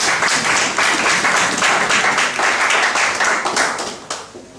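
A church congregation applauding during a sermon, dense loud clapping from many hands throughout that fades slightly at the end.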